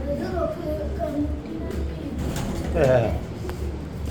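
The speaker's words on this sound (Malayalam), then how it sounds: "ഇത് വന്നിട്ട് കിങ് പിജിയനും പോർച്ച് ഓഫ് പിജിയനും ആണ്" King pigeons coo softly in low, repeated murmurs over a constant background hum, with a few faint clicks.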